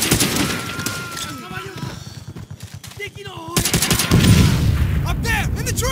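Rapid machine-gun bursts and scattered shots from enemy gunfire in Call of Duty: World at War, loud and near, mixed with shouted voices and a heavy burst of fire toward the end.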